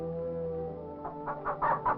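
A chicken gives a short run of clucks near the end, starting after a stretch of low, steady tonal background and rising in loudness as the calls repeat.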